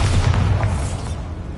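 Bombarda spell explosion in Hogwarts Legacy: a single loud, low boom with a rumbling tail that slowly fades.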